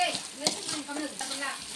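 Chettinad country chicken gravy being stirred and sautéed in a pan gives a soft, steady sizzle with light scraping strokes throughout, close and moderately quiet.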